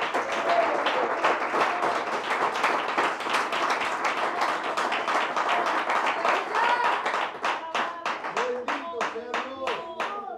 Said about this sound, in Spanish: Demos palmas de alabanza al Señor.